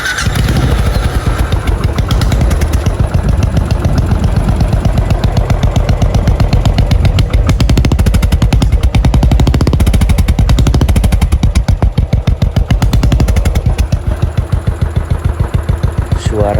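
A Royal Enfield Classic 500 (2017) single-cylinder motorcycle engine thumps steadily up close, its loud, even firing pulses filling the clip with a deep, torquey beat.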